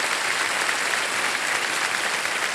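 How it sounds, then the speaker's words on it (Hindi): Steady, dense applause from a studio audience at a quiz show taping fills the whole stretch, loud and even with no voices standing out. "अपनी कला से सबका दिल जीतने वाले इन दो महारथियों का एक बार फिर हम अभिनंदन करते हैं जोरदार तालियों के साथ"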